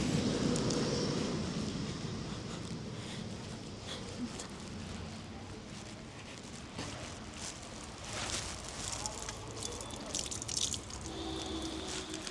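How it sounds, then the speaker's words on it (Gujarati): Running water splashes and drips continuously as hands are washed, with rubbing and sloshing sounds and faint background noise throughout, at a dargah in Dhuvav, Jamnagar. "હું હાથ ધોઈ લઉં."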